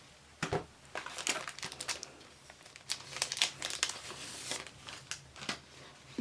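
Paper sticker sheets from a vintage craft subscription box being flipped through by hand, giving close, quiet crinkles and soft papery rustles in uneven bursts with brief pauses.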